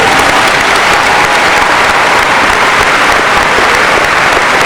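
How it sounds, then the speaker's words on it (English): A large graduation crowd at a 2018 high school ceremony applauds loudly and continuously for Dr. Harris, a thick, even roar of clapping with no pause. "Can we all just give Dr. Harris a big round of applause?"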